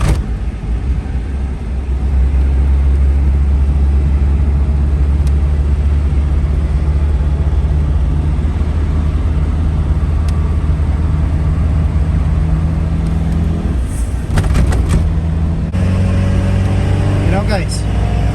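FSO Polonez car engine pulling uphill in fifth gear, a steady low droning rumble heard from inside the cabin throughout, with some faint rattles and tonal whines near the end.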